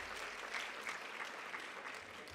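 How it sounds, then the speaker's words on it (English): Crowd applause for Senator Padilla at a Los Angeles World Cup kickoff celebration, a fairly faint, even patter of many hands clapping with no voices over it. "Round of applause for Senator Padilla."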